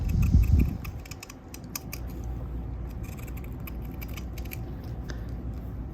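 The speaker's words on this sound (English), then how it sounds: "So here we have my little circle, which I'm now going to cut out." Scissors snip through fabric to cut out a small cloth circle for a textile vessel, a few close crisp cuts at the start, followed by a steady low handling rustle.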